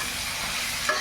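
Onions with salt frying in a pan, a dense, even sizzle heard up close for a brief moment, no voices.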